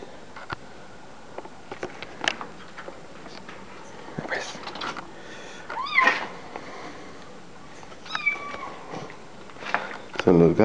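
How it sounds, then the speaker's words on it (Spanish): Cats locked outside meow repeatedly, some calls close and rising, scattered among rustling and light shuffling, with people talking at times. "Son los gatos."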